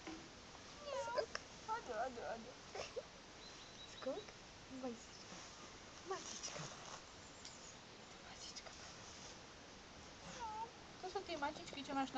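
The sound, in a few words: kitten meowing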